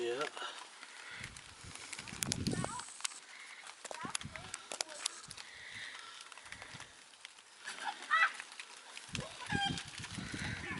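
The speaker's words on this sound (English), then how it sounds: "As you can hear in the background, the chickens have gotten out yet again." Loose backyard chickens cluck and squawk off in the distance of an outdoor garden, scattered calls running throughout amid rustling and nearby activity.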